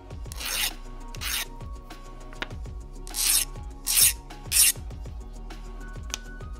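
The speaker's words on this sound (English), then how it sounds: "The file will still remove scale and will eventually abrade your workpiece, but it really won't dig into the steel." A hand file scraping across original and hardened steel test pieces for a carbide camp knife, several separate strokes in a workshop, some with bright harsh rasping bursts and others duller and quieter, no talk.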